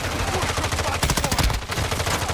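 Rapid automatic gunfire in Call of Duty DMZ rattles loudly and continuously in dense bursts, filling the whole short stretch with hardly a pause.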